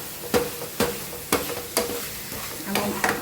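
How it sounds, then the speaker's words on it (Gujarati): Spiced potatoes are stirred in a pan over a full gas flame while they fry, making a steady sizzle. About six distinct scraping strokes of the spoon against the pan come at a regular pace. "હવે એને સરસ મિક્સ કરી લઈએ. મસાલો અંદર બટાકામાં મિક્સ થઈ જાય એટલે ગેસની ફ્લેમ ફૂલ જ રાખીએ."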